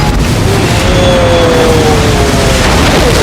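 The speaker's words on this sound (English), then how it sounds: "nice explosions" Loud, dense rumbling blasts from the film Star Trek Generations (1994) fill the whole clip, a continuous roar of explosions with a faint whistling tone drifting through it.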